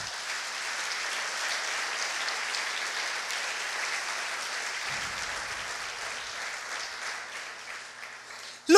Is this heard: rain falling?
no